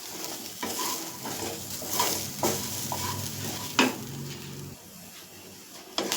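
Onions fry in a pan with chili powder as a spoon stirs them, making a continuous sizzle broken by metal scrapes and clanks of the utensil against the pan, close and moderately quiet.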